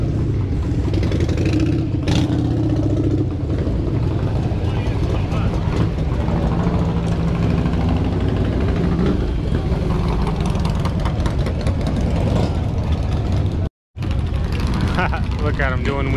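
A stunt motorcycle engine of about 180 horsepower at a bike show, idling and revving loudly amid a busy outdoor crowd, with people talking over the engine noise and a brief dropout near the end.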